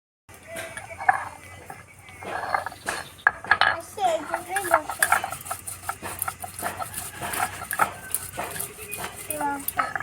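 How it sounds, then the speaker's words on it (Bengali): Cumin and dried red chillies being ground by hand on a grinding stone in a village kitchen, giving an uneven run of scraping and clacking stone-on-stone strokes close by, with voices and other kitchen noise around it. "এবার জিরা আর শুকনো লঙ্কাটা আমি বেটে নেব।"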